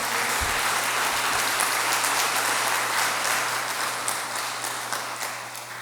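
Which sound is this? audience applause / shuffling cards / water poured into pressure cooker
audience applause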